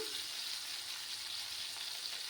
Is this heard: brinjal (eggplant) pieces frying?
yes